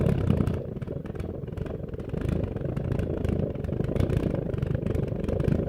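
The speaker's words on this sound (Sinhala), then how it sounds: "ඔයාලට පේනවා බෝතලය ඇතුලේ ඉතාමත් පැහැදිලි විදිහට ජෙට් එන්ජින් එකක් වැඩ කරන විදිය" Small alcohol-fuelled pulse jet burning inside a glass jar, a rapid continuous low fluttering rumble with a rattly, engine-like pulsing that holds steady and fairly quiet throughout.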